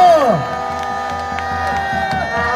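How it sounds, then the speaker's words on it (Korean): A crowd at a political rally in Busan cheers and claps, with voices shouting and tonal chanting or a sung note over scattered claps, fairly loud and close. "우리 성호사님께 큰 박수 부탁드립니다, 여러분"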